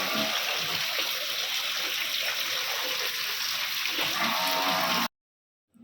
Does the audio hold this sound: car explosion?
no